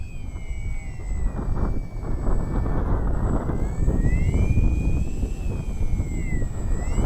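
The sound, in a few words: H-King Bixler 3 RC plane motor while hovering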